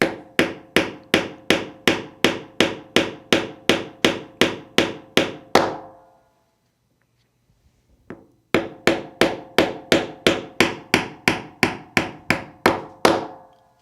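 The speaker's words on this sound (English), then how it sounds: "So we'll tap the pins in gently with a hammer until they seat." Steady, rapid hammer taps on pins being driven into a metal plate, loud and close, in two long runs separated by a brief pause with a faint knock.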